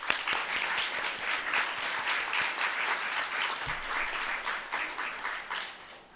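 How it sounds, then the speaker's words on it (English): An audience at an animal welfare community event bursts into steady, sustained applause, a dense wash of clapping that carries on without pause and fades slightly at the end. "Let's give them a round of applause."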